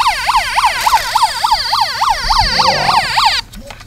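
A loud, close toy ambulance siren yelps in a fast, repeating rise-and-fall pattern, then cuts off abruptly near the end.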